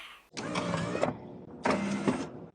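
Two short bursts of whirring electric motor, each about a second long, separated by a brief pause, close up, as a Mazda RX-7's pop-up headlights rise.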